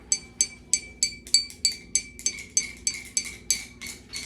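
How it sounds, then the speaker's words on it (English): A pencil taps the side of a glass bottle in about fourteen bright, ringing clinks at a steady, even rhythm, each with a short tonal decay, close and alone. "with your pencil, tap it on the side of the glass"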